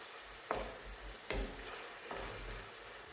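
Tomatoes frying in a pan, a continuous soft sizzle broken by a few sharp scrapes of stirring, close and unaccompanied by speech.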